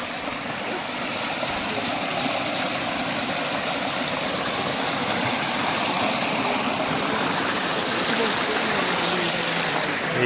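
A waterfall and stream at Yogi Yogiani near Nayagarh rush steadily as a dense, broadband outdoor roar, loud and continuous without a break.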